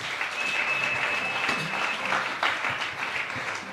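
A church congregation claps together in sustained, dense applause, steady and fairly loud from start to finish, with a faint tone ringing through it.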